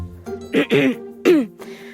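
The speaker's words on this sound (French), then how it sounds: "Tom se racle la gorge." Someone clears their throat in a few short, rough bursts, close and distinct against quiet.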